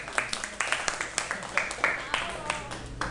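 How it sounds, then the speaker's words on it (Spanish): Scattered applause for a professor after a university talk, a moderate run of claps with uneven rhythm, partly under a voice speaking. "de nuevo un aplauso para él"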